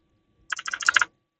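Computer keyboard typing as a line command is entered in AutoCAD: a quick burst of about ten close, crisp keystrokes lasting half a second, with silence before and after.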